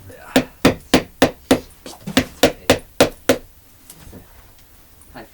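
A carving tool is struck repeatedly on a woodblock for Japanese printmaking, about a dozen sharp, evenly spaced knocks close up, fading into quieter taps and faint shuffling.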